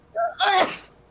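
A single short sneeze, a quick intake followed by a sharp burst, close and fairly quiet.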